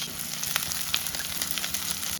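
Shallots fry in a mix of refined oil and coconut oil alongside garlic, making a loud, continuous sizzle up close, with scattered sharp pops and crackles throughout.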